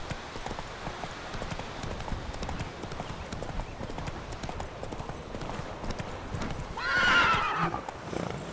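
Roach the horse from The Witcher 3 clops along steadily on hooves at a soft, even pace, then whinnies briefly near the end, all under a low ambient game background.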